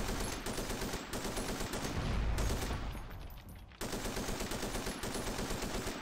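Long sustained bursts of MG42 turret machine gun fire from the video game Forgotten Hope, loud and close, with a brief lull in the middle before the rapid firing resumes.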